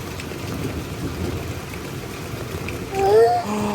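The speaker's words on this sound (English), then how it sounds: "You hear the thunder? Oh man, it's pretty loud." Steady rain falls with low, rolling thunder rumbling through it, close and fairly loud, and a brief voice rises near the end.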